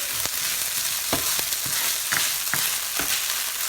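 Frozen peas frying in a pan for egg fried rice, a steady loud sizzle with occasional stirring scrapes and clicks, no voices.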